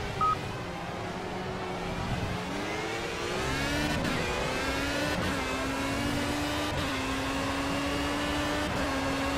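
A Formula A race car engine in a racing video game whines steadily through the gears, its pitch climbing and then dropping at each shift over several seconds, with no talk.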